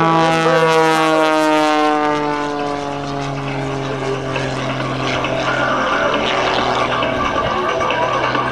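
A propeller airplane engine drones loudly overhead at an airshow, its pitch sliding and shifting as it maneuvers through aerobatic tumbles and loops, with no speech.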